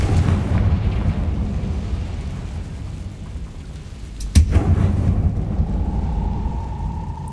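A Confringo fire spell bursts in the Hogwarts Legacy video game, a sudden sharp blast rising out of a low rumbling background, followed by a lingering roar.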